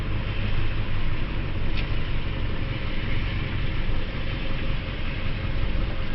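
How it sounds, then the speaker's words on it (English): A snowplow truck's engine idles with a steady, loud, low rumbling drone, unbroken and with no talk. "The truck's running okay for now"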